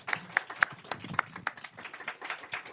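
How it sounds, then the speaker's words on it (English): A small conference audience gives scattered, light applause, a handful of separate claps close by at a modest volume. "Please give my colleagues a round of applause."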